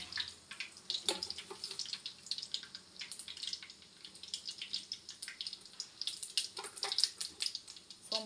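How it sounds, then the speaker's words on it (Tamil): Fennel seeds and urad dal crackle and splutter in hot oil in a pan, a dense run of sharp little pops and sizzling hiss at close range with no voices. "சோம்பு பொரிஞ்சிருச்சு."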